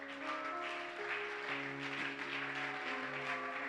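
A church congregation claps and cheers in acclaim during a French-language worship service, a steady dense wash of applause mixed with joyful voices throughout.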